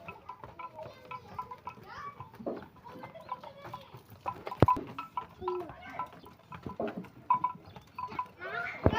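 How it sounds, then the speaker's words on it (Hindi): A large herd of buffaloes pushes out through a gate in a village, heading off to graze; scattered hoof thuds, shuffling and animal calls mix with a low murmur of distant voices. "देखो बहुत सारी भैंसें निकलती हैं दरवाजे से।"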